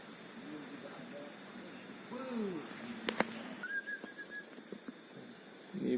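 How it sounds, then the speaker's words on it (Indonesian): On the Gede Pangrango trekking trail via Cibodas, a forest bird sends out a clear whistled call, mid-loud, over rustling trail noise with some voices nearby. "Ini burung penunjuk jalan bro."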